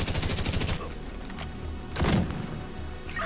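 Gunfire erupts in a fast automatic burst, then single sharp shots and an impact follow amid the siege on Wall Street in The Division, loud and close with no talking.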